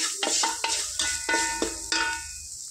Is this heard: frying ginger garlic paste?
yes